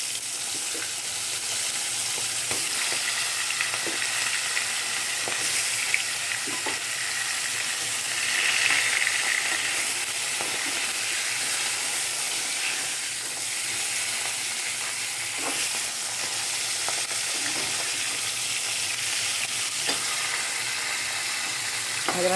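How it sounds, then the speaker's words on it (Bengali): Fish head frying in hot oil in a pan, a steady dense sizzle and crackle running continuously, close and fairly loud, with occasional stirring scrapes. "মাছের মাথা ভাজা হয়ে গেছে"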